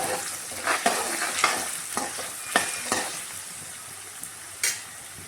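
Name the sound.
potatoes sautéing in a pan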